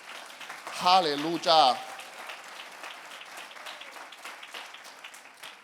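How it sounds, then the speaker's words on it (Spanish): A church congregation at a youth revival service applauds. A loud voice calls out over the start before fading, then a softer, sustained spread of clapping continues underneath. "¿Se atreve a darle un fuerte aplauso a Jesucristo?"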